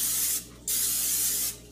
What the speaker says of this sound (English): I'm just going to spray my pan